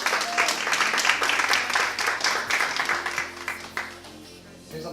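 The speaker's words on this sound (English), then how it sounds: "give him a big round of applause." An audience gives sustained applause as Adam is welcomed on stage, a steady roar of many clapping hands that fades toward the end, with music underneath.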